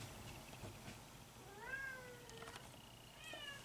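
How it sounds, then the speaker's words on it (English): A pet cat named Crumb meows indoors, two rising-and-falling cries set apart by a short pause, faint and fairly close over a low room hum. "I hear a cat"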